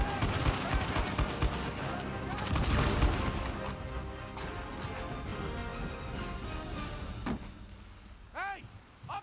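Rapid bursts of gunfire in Uncharted 4 rattle loudly at first, then thin out and fade, with people talking over the shooting.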